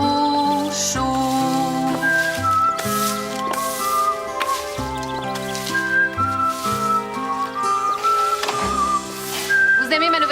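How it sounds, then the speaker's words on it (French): A person whistling a melody over a bouncy musical backing, clear sustained whistled notes moving up and down in a tune, with brief speaking voices partway through. "Je vous ai entendu siffler ma chanson"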